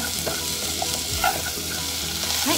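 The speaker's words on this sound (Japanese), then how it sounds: "玉ねぎがですね透き通るくらいになるまで炒めます" Onions stir-fried over medium heat in a pan for clam chowder: a loud, steady sizzle close up, with occasional scrapes and soft knocks from stirring.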